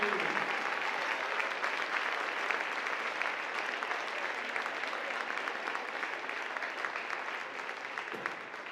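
A school gym crowd at a varsity volleyball night applauds fire, EMS and medical workers, a steady, loud wash of clapping that holds for the whole stretch with no voices breaking through.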